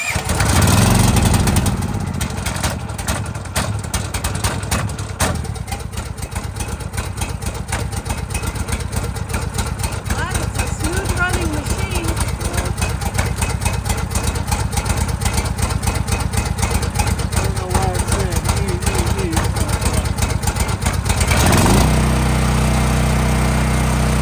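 A Champion portable generator engine runs in cold snowy weather after coming off choke, a loud, close, steady buzzing drone with rapid firing pulses that holds even for about twenty seconds before the tone drops into a lower, smoother running note.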